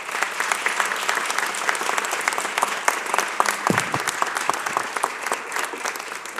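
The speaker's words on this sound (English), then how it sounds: "can you please give former Mayor Wilson Goode and Mayor Michael Nutter applause" A large audience at a public event in Philadelphia gives sustained, dense applause for two mayors, a steady wash of many hands clapping at even loudness for several seconds without speech.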